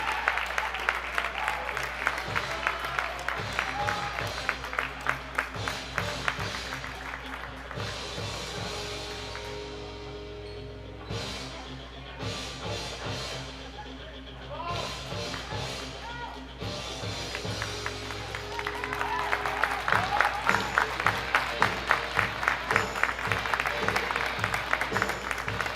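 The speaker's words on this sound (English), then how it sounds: "a big round of applause for the Alamogordo Tigers senior class of 2021" A gym crowd at a high school basketball game claps for the Alamogordo Tigers senior class of 2021, loud continuous applause that dips midway under a faint amplified voice and then swells again.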